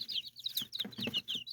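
Chickens cluck and chirp close by in a quick, busy run of short calls, several overlapping bird voices with a few soft lower clucks underneath and no talking.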